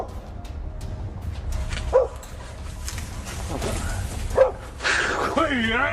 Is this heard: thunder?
no